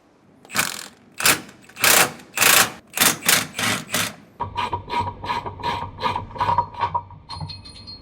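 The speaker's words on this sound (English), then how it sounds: "use a ratcheting wrench to get it off the rest of the way to speed it up" A ratcheting wrench removes bolts while installing a rear anti-sway bar on a 2018 Ford F-53, first several loud rasping strokes, then a quicker series of lighter clicking ratchet turns.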